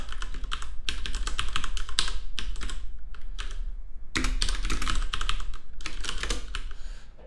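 Rapid bursts of computer keyboard typing during Haskell/PureScript programming, close and fairly loud, with short pauses between flurries of keystrokes and no talking.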